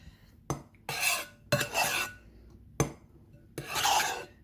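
Beaten egg whites are mixed for a fluffy omelette with a utensil scraping and clinking against a bowl, in five short, brisk bursts separated by quiet pauses.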